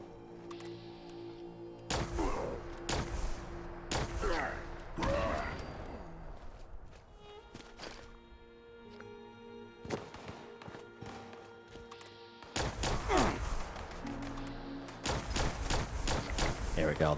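Gunfire erupts in a video game while aiming with VATS targeting. Sharp shots come in several separate bursts spread across the stretch, with quieter game sounds between them.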